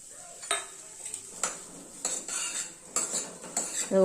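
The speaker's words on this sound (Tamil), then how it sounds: "இப்போ இது எல்லாத்தையும் இதில் வதக்கிக்கலாம்" Metal utensil scraping and clinking against a pan as vegetables are sautéed for a traditional rice porridge, with a soft sizzle underneath, close and irregular.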